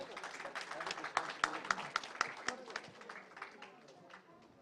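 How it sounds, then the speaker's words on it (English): An audience claps for the next speaker coming forward at a plant-based food show in New Delhi, a burst of sharp, scattered claps that peaks and then fades, with voices talking over it. "Can we have loud claps for sir, please?"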